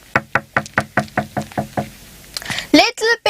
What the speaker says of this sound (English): he knocked on the first one